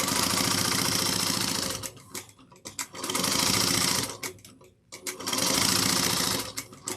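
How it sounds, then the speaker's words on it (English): A sewing machine runs in three long, loud bursts, top stitching tote bag straps, with brief pauses between runs for repositioning the fabric. "we're going to top stitch this at 1/8 of an inch down both sides."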